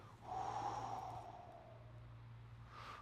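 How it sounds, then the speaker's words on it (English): One long exhale through the nose during an upper body mobility drill, a soft, close, breathy rush that fades slowly over a low steady hum. "Get a nice exhale as you do so."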